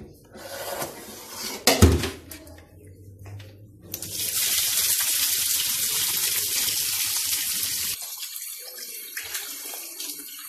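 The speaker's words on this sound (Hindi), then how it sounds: "अब इसको हम धोते हैं। इसको हम पानी के नीचे" Tawa fish is rinsed under a kitchen tap, with running water splashing steadily into a sink after a few knocks of pans and dishes, close and fairly loud.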